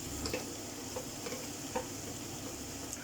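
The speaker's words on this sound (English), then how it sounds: "And we'll leave it there to gently fry away. Brown it all off." Sausages, onions and mushrooms gently frying in a pan, with a steady soft sizzle and a few light stirring ticks and clicks close by; no one speaks.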